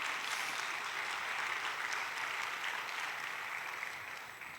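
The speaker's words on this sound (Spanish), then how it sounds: "Denle un aplauso al Señor" A church congregation claps steadily in dense, continuous applause during a sermon, holding level and then tapering slightly at the end.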